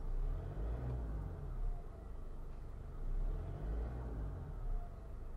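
Hyundai Accent engine revving as the accelerator is pressed, a low rumble that swells in a few gentle waves while the car sits, fairly quiet, with no talk.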